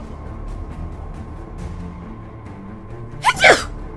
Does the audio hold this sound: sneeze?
yes